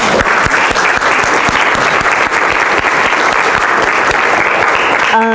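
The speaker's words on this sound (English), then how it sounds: "You should give yourself a round of applause." A seated audience at a talk breaks into dense, sustained applause, loud and close, holding at an even level for over five seconds with no voices.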